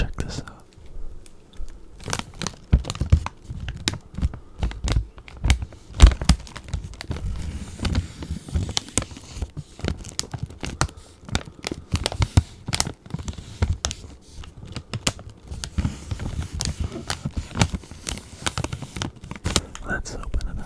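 A crinkly plastic package of Canadian food is torn open and handled close to the microphone. Dense bursts of rustling and crackling run throughout, with soft whispered talk underneath.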